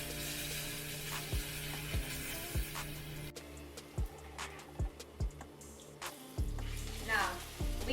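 Corn pancakes sizzle in hot oil in a pan, a soft steady frying hiss broken by repeated clicks and taps as batter goes in, with occasional quiet voices underneath.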